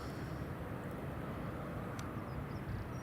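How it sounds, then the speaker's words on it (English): EasyJet airliner on approach to Edinburgh Airport, a steady distant jet roar held at an even level throughout, with no voices. "Got another EasyJet coming in"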